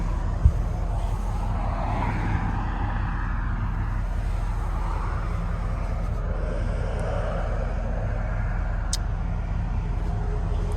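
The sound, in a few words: 1987 Chevrolet Silverado truck with 5.7 liter 350 engine driving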